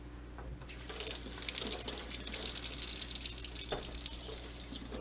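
Tap water rinsing the parts of a Teavana Perfectea Maker in a sink, a steady splashing stream that starts after a brief pause and continues evenly close by.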